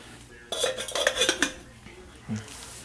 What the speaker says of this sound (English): I'll go ahead and put the lid on this guy